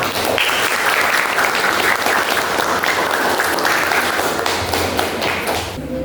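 Loud, continuous applause from a classroom audience of student teachers, dense clapping sustained for about six seconds, easing slightly at the very end, without speech over it.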